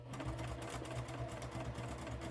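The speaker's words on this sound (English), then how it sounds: "some top stitching. Nothing exact, just some crazy little stitching kind of thing going on." A sewing machine runs continuously while top stitching a scrap fabric bookmark, a steady close mechanical whir with a rapid needle rhythm and no talk.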